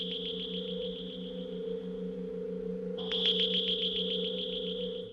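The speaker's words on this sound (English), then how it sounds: "Followed by the first appearance of the tripods and their incredibly eerie sounds." The eerie Martian war machines from the 1953 War of the Worlds film give off a steady, humming electronic drone layered with a rapidly pulsing high pitched warble, which swells louder partway through, with no voices.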